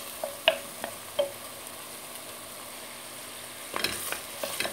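Chicken tajine mixture cooking gently in a pan over low heat, giving a faint, quiet sizzle with a few soft clinks and stirring taps near the start and end.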